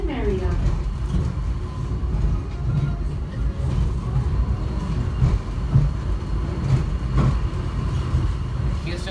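Loud, continuous rumble of an airport subway train running to Terminal A in Houston, with rattling and clattering bursts throughout and no clear talk.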